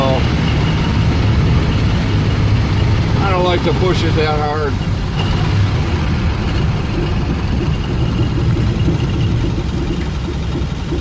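A steady, loud engine drone from a 1935 Plymouth Coupe running at about 55 mph, with someone talking briefly over it near the start.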